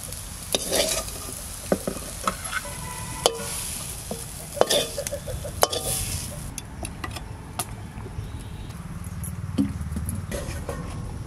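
Food frying in a home kitchen pan gives a steady oily sizzle for the whole stretch, broken by frequent light scraping and tapping clicks as it is stirred and turned. No one speaks.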